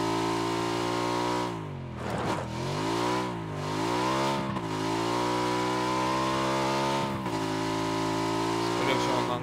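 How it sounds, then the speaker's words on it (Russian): A motorcycle engine in PUBG revs continuously at close range, its pitch dipping and climbing as the bike shifts and accelerates, with players talking over it. "я возьму мотоцикл, проеду"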